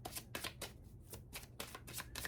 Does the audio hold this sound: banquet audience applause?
no